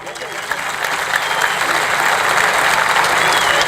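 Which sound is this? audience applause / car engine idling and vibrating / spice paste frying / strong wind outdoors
audience applause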